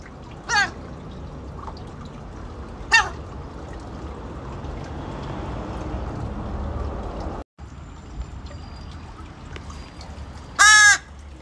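A crow caws in a few harsh, separate bursts: one early, one a couple of seconds later, and a louder one near the end, over a steady background hum.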